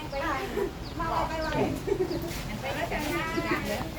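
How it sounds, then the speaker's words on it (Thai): Chickens cluck and call close by in short, repeated bursts, mixed with people talking. "ไก่มาไก่มาเย"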